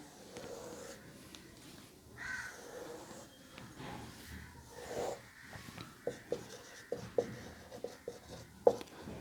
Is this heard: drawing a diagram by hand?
yes